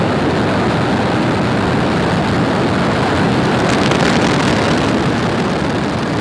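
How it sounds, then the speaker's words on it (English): A SpaceX Falcon 9 rocket lifts off from Cape Canaveral carrying a GPS III satellite, producing a loud, continuous broadband roar that holds steady and rumbles throughout with no speech over it. "Ignition, engines full power, and liftoff."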